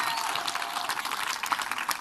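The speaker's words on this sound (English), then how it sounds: "Let's give her a W round of applause" A crowd at a women's sports summit interview breaks into applause, a fairly quiet, continuous patter of clapping heard from some distance.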